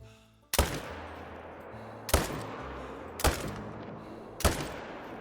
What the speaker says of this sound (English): I'm literally shooting through the ground to try and hit her